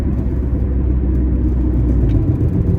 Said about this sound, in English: Car's up to temp and it idles mint.